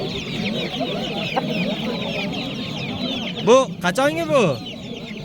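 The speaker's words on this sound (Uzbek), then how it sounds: "Mana xo'roz." A rooster at a busy poultry market clucks and calls up close among other chickens, with a louder burst of harsh cries near the end and someone speaking briefly over the crowd noise.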